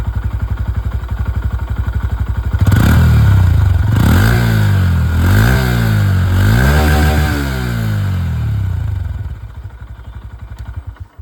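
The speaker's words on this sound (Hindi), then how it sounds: "जो एग्जॉस्ट साउंड है वो भी मैं आप लोगों को सुना दूँ।" Exhaust of a 125cc motorcycle, starting with a ticking idle, then several quick throttle blips rising and falling in pitch, before settling back to idle; loud and close with no talking.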